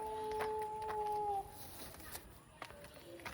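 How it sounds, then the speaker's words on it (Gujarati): A dog howls in drawn-out, wavering tones, fairly faint and heard in a couple of long cries over low household background noise, followed by weaker short calls. "કૂતરું રોઈ રહ્યું છે"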